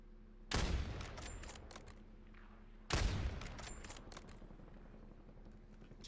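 Two loud bursts of video game gunfire in a Black Ops 2 match, each a sharp cluster of shots followed by a decaying rumble and scattered reports, with no speech over them.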